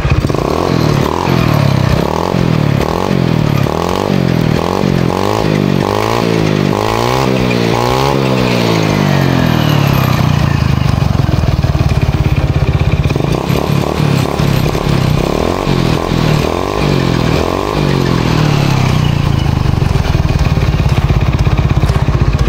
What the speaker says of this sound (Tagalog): umaandar na yung motor na ito